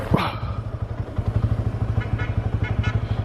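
A motorcycle engine idles close by in a steady, rapid pulsing throb that continues throughout, after a brief sharp yelp at the very start.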